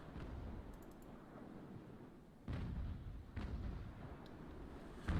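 Ship cannons firing a broadside in the age-of-sail naval battle game Ultimate Admiral: Age of Sail, a few muffled booms over a low rumbling sea ambience, the two clearest landing about a second apart midway through.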